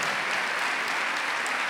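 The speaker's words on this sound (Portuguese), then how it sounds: "Vamos aplaudir as pessoas que têm fé, que vivem a fé, que cultivam a fé?" A large audience at a New Year's faith gathering at Canção Nova applauds, a thick, continuous wash of clapping that stays even and loud from start to finish, with no voices heard.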